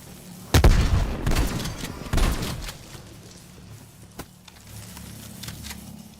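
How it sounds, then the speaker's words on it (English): A frag grenade thrown and detonating in Call of Duty's Outbreak mode, heard as a loud blast with a rumbling tail and a second heavy boom soon after, then quieter game noise. "Throwing granate. frag out."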